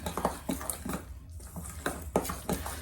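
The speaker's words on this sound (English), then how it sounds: "Just going to give this a stir" Thick homemade corn dog batter, wet ingredients just mixed into dry, is stirred in a bowl, giving soft irregular scraping and squishing strokes close by, with a short pause midway.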